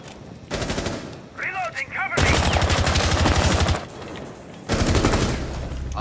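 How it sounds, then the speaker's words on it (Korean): Gunfire in the tactical shooter Rainbow Six Siege, loud rapid automatic bursts repeating across several seconds, broken by brief pauses and short metallic reload clicks. "한 방에 총소리 나."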